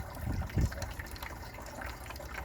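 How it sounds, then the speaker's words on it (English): A solar-powered garden water feature trickles steadily, a soft continuous splash of running water with a slightly stronger gush near the start, fairly faint and with no voices. "My water feature, still going strong. Solar water feature."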